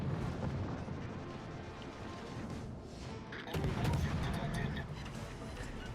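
Ship cannons fire in the World of Warships Legends video game as a dense, roaring wash of heavy booms and rumbling blasts, with a loud burst midway, while someone talks over it.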